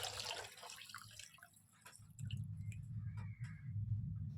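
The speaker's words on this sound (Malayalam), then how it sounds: "ഇനി ഇതിലേക്ക് നമ്മൾ നേരത്തെ തന്നെ അരിച്ച് മാറ്റി വെച്ച പുളിവെള്ളം ചേർത്ത് കൊടുക്കാം." Strained tamarind water poured into a pot of Kerala-style gooseberry rasam, a soft close liquid trickle and splash that grows fuller and steadier partway through, with no talking.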